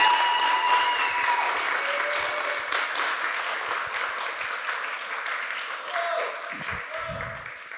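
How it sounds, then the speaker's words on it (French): Audience applause in a hall at a Paris demo day as four presenters walk on stage, steady and fairly loud clapping throughout that thins toward the end, with a few voices and low thumps near the close. "Vous pouvez applaudir Amélien, Raphaël, Charlie et Olivia"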